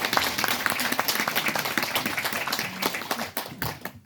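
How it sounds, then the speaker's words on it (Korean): Audience applause in a lecture hall, a steady wash of many hands clapping at close range, thinning toward the end with a few louder scattered claps. "이때는 박수 치는 겁니다."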